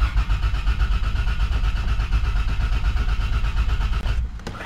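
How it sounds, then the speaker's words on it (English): Toyota Land Cruiser FZJ80 fires up after sitting idle a year or more with a previously dead fuel pump, a steady low engine churn running continuously up close, then cutting sharply near the end. "I hear the pump churning."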